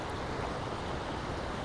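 Water of the Hableh Rud river near Bonkuh village in Semnan Province, Iran, rushes steadily in a dense, continuous broadband wash, mixed with outdoor wind noise and no voices.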